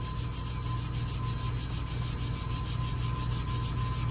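Grit compound is rubbed onto the plate of a clipper blade sharpener in a steady, continuous gritty scraping close by, with a constant hum beneath it and no speech.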